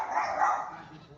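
A pet dog lets out a single drawn-out, whining bark near the mic, fading over about a second with no voices.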